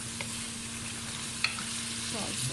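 Chicken fries in a pan for a salsa chicken dish, a steady soft sizzle running throughout with light stirring clatter and a small knock partway through, with no talking.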